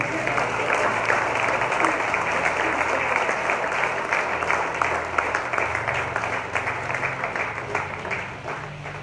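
A church congregation claps and cheers in sustained, dense applause that holds steady throughout before easing slightly at the end.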